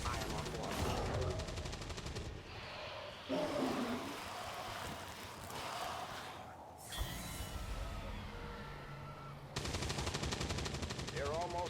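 Machine gun turret in XCOM 2 firing sustained bursts of automatic gunfire, loud and dense, with brief pauses between volleys and no voices.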